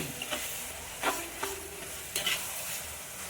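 Chicken with masala sizzles in a pan for a village-style chicken kolambu, and a spoon stirs it in a few scraping strokes over a constant close frying hiss.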